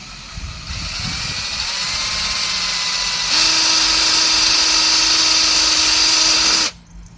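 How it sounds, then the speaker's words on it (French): A power drill bores rivet holes through a swimming pool rail, a steady whirring whine that rises in pitch partway through and holds before cutting off abruptly. "Donc je perce tous les 30-40 à peu près."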